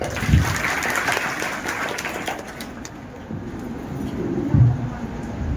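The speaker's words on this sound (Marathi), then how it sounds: "त्यांच्यासाठी जोरदार टाळ्या" A crowd applauds at a jewellers' prize distribution event, giving a broad, sustained patter of clapping that swells at the start and again near the end, with voices and faint pigeon coos mixed in.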